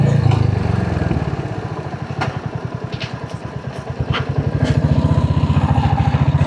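A motorcycle rides into a residential housing society in India, its engine close and steady with a throbbing, uneven putter that dips briefly mid-way and then swells again, with no talking.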